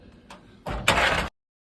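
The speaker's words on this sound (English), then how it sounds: "You're just gonna pull the drawer out." A lint drawer being pulled out of a large Speed Queen 75-pound commercial dryer: a couple of faint light knocks, then a loud metallic scraping slide lasting about half a second, ending abruptly.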